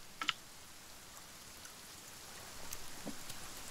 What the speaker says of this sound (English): the rain is surprisingly loud